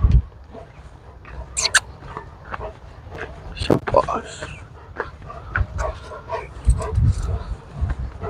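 A Bully Kutta dog on a walk gives several sharp barks, yips and whimpers, close by, while people talk over it.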